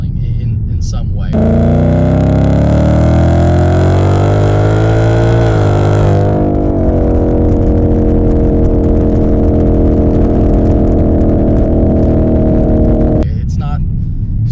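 A 700HP 2018 Ford Mustang with a 10-speed transmission revs loudly up close, its pitch climbing, then holding a steady high drone before cutting off, with voices nearby.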